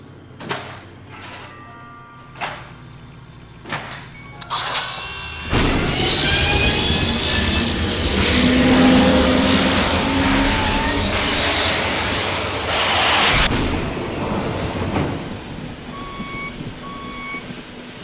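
Laser cutter working on a skateboard deck: a few sparse beeps and clicks, then a loud, steady rushing machine drone that kicks in abruptly, holds for about ten seconds and drops away, with faint electronic beeps near the end.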